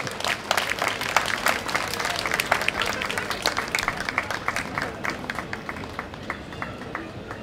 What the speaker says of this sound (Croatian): Jedan veliki aplauz za njega